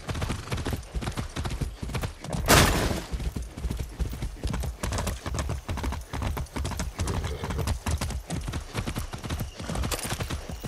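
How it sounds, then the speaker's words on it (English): Rhythmic hoof clip-clop of a galloping horse in Far Cry 6, steady and close throughout, with a sharp whinny breaking through near the start amid game ambience. "Be nice, horse."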